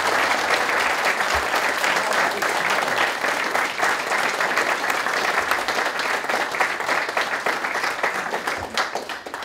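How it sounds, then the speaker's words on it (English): Wedding guests applaud at a ceremony, a sustained burst of many hands clapping at an even, full level that tapers slightly toward the end. "I think they deserve a round of applause."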